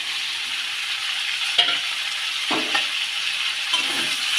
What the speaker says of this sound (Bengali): টমেটোটাকে দিয়ে সবজিগুলো ভালো করে ভেজে নেব